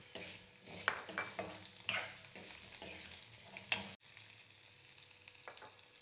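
Garlic cloves and dried red chillies sizzle and fry in hot oil for an Indian ginger chutney, a steady soft crackle with a few sharper pops and stirring scrapes, close and moderately quiet with no talking.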